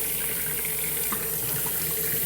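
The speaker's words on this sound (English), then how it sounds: "I've got a tankless water heater and I have to have this flow restrictor on so it moves kind of" Water runs slowly from a sink tap fitted with a flow restrictor on a tankless water heater, a steady, close, even trickling hiss throughout.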